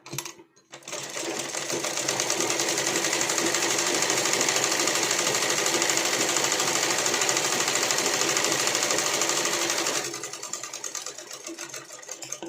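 A sewing machine stitches a blouse in one long steady run of about nine seconds, loud and close with a fast rattling whir, then quieter handling noise with no talking.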